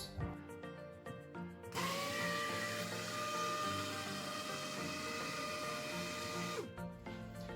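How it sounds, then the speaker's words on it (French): An electric mixer blends cake batter for a strawberry fraisier, starting after a few knocks and running as a steady, close, whining motor drone for about five seconds before cutting off. "nous allons la mixer 2-3 minutes, pas plus"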